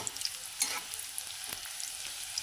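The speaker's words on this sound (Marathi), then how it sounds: "लसूण छान परतलेलं आहे" Garlic and cumin sizzle in hot oil in a pan, a steady close crackle with sharper pops and a few stirring clicks.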